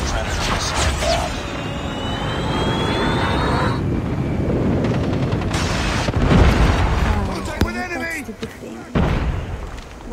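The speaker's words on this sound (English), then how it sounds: "Friendly airstrike incoming." Airstrike explosions rumble and boom in a Call of Duty multiplayer match, heavy low blasts and jet noise layered with game effects, while game announcer voice lines and players talk over them.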